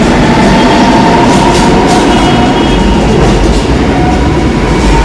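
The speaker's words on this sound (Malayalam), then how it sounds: "അവിടെ വന്ന മെട്രോ പോവുകയാണ്" A Kochi metro train pulls out of Kalamassery station as a loud, continuous rumble with low mechanical drone and a faint tonal whine from the train, heard close for the whole stretch without voices.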